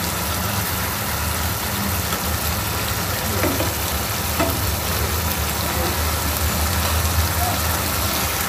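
Fish frying in a pan, a steady loud sizzle with a low rumble beneath and a couple of faint clicks as the pieces are turned.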